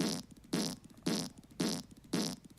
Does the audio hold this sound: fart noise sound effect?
yes